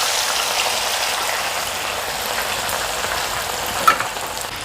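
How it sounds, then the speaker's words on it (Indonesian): Chopped red chilies fry in hot oil, giving a steady, loud sizzle with a light crackle and one small pop near the end, and no voices over it. "sekarang saya akan goreng cabai merah yang sudah dipotong-potong tadi ya"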